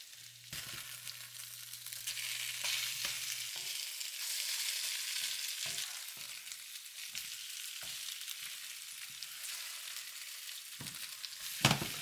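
Food frying in a pan as pieces are turned over one by one, a steady soft sizzle with occasional scrapes and taps of the utensil, close and continuous.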